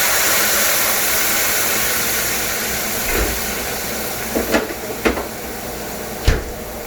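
Wine poured into a hot pan of browning ingredients brings a steady, close hiss of steam and sizzle, broken by a few sharp clacks of a utensil.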